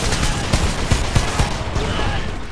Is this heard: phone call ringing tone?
no